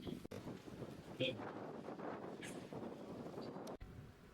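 Steady wind buffeting the microphone outdoors in a town centre, a continuous rushing noise with a faint voice and distant sounds mixed in.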